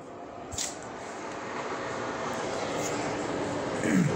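A Kobe Electric Railway train passes nearby as a steady, broad rumble of wheels and motor that builds slightly toward the end, with no voices.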